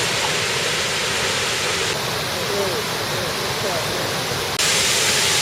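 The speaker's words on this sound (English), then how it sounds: "And these are the Wailua Falls." Wailua Falls in Hawaii roars as a loud, constant broadband rush of falling water, close and unbroken throughout, with the level stepping up slightly near the end.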